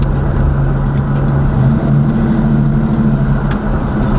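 A box Chevy car engine idling with a deep, steady hum and a low droning tone, close and loud, no talking.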